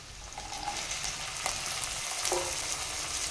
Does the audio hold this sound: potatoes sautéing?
yes